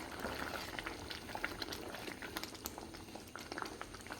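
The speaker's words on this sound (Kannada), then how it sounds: "ಈಗ ಕುದಿ ಬರ್ತಾ ಉಂಟು." A pot of spiced fish curry at a steady boil gives off a continuous bubbling and soft popping, close and fairly quiet, with no talking over it.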